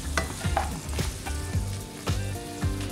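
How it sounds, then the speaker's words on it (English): Garlic and chilies sizzle loudly in a pan, the hiss interrupted by repeated spatula scrapes and clacks at an uneven rhythm, close and clear with no talking. "just make sure we cook the garlic and the chilies as well"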